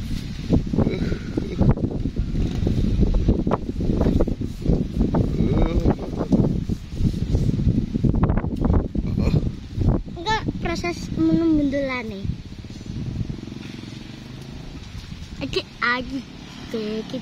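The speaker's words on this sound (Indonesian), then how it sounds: "Mumpung angin bandel." Strong outdoor wind buffets the microphone while a kite is flown in a village setting, a heavy rumbling gust throughout, with children and other voices talking over it in the latter half.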